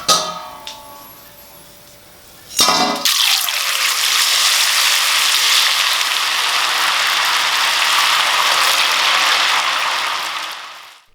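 Thin potato slices frying in hot oil for chips: after a short clatter as they go in, a loud, steady crackling sizzle fills the rest of the clip and fades slightly at the end.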